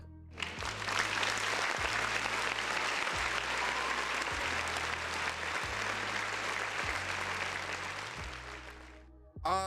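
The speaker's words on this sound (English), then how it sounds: "Shamoka, you gotta get one more round of applause, man." Loud, continuous clapping from a large audience fills the room, holding steady for nearly ten seconds before cutting off.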